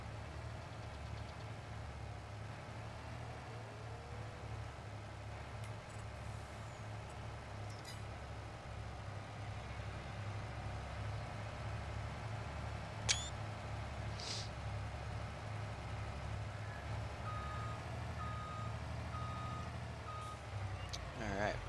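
Truck engine idling and rumbling in Farming Simulator 22, steady and close, with reversing beeps and a few brief clicks, while someone talks over it.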